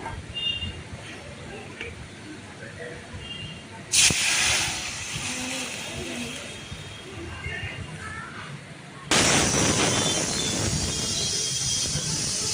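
Masoor dal, tempered with cumin, dried red chilli and bay leaf, sizzles in a little oil in a wok. The steady, close hiss jumps louder in two sudden steps.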